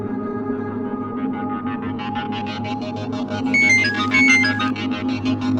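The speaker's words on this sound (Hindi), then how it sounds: "इसका फोन आ गया।" A mobile phone ringtone plays a repeating melodic tone pattern at moderate loudness over a steady background hum, growing louder and brighter in its second half, with no talking.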